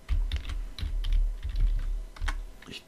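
Rapid, irregular clicking of keys on a computer keyboard during a drafting session, close and fairly quiet, in uneven bursts with short pauses and no talk.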